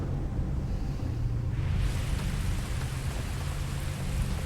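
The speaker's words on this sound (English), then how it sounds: "And of course it's raining." Steady heavy rain in Starfield hisses throughout, swelling brighter and louder after the first couple of seconds, with a low rumble beneath.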